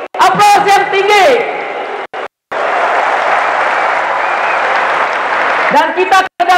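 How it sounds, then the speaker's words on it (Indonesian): An audience applauds at a 2015 May Day labor rally, a loud sustained burst of clapping and crowd noise that follows an amplified speaker and is cut off when the speaking resumes. "Kita beri aplaus buat Miss Sarulo, Brother Suzuki. Aplaus yang tinggi."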